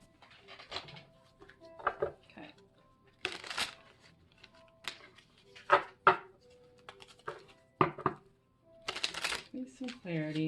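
Tarot cards are shuffled and pulled, giving repeated crisp riffles, flicks and soft slaps in uneven bursts, close and clear, with a voice talking quietly at points.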